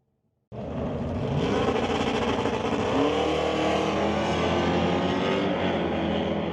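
Sportsman drag race cars roar at Mission Raceway Park in Vancouver, with loud engines firing up abruptly and holding a sustained, rising howl through the run, no voices heard.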